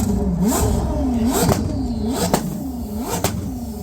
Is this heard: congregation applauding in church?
no